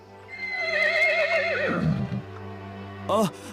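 A horse gives a loud, wavering whinny that trails off, followed by a brief snort or second short call.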